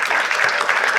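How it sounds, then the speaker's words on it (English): An audience bursts into applause, a bright, dense patter of many hands clapping close by, sustained evenly throughout the brief moment. "let's get a round of applause for them"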